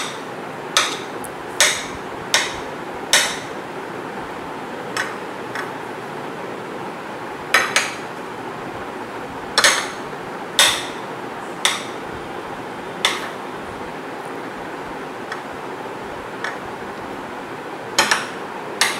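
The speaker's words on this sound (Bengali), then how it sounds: "একদম কুচি কুচি করে কাটতে হবে" A knife strikes a cutting board in sparse sharp taps while ingredients are finely minced, set against a quiet steady background hiss and spaced irregularly, with short clustered pairs and gaps between.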